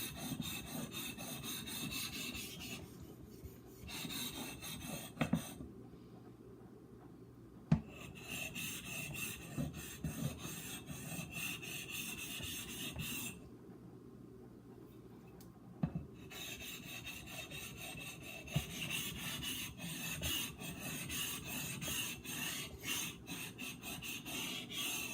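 A Japanese natural whetstone, a Narutaki Imanishi, is lapped with silicon carbide powder: a steady, gritty rubbing rasp of stroke after stroke, close and continuous, broken by two short pauses.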